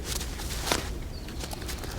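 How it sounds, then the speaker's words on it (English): Footsteps crunch through a forest, soft and fairly close, over a dense, noisy outdoor background without any speech. "That fact was made all too obvious when I heard the footsteps."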